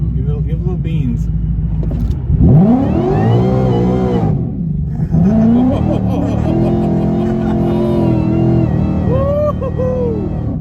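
A VMP-supercharged 2018 Ford Mustang GT V8 revs hard in repeated rising and falling sweeps, loud and close, with a supercharger whine riding over the engine as people talk over it.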